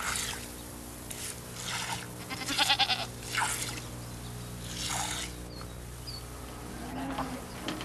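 A family's milk goat bleats several times in short, wavering calls over a constant buzz of insects and a low droning background.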